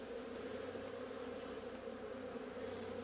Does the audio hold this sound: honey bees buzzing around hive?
yes